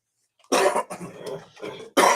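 A man coughs several times in quick succession, fairly close and moderately loud, with short pauses between the rough bursts.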